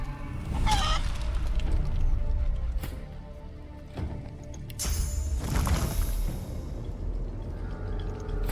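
Chickens cluck in the fantasy role-playing game Divinity: Original Sin II, faint and scattered over a dense, steady game soundscape of low rumble and noise.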